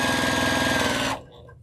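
A sewing machine runs steadily and fast, stitching twelve quilt pieces straight through in one continuous whirring run that stops abruptly near the end.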